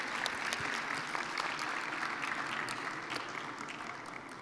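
A panel audience at a digital inclusion event applauds for the panelists, a steady, fairly faint burst of clapping that tapers off slightly toward the end.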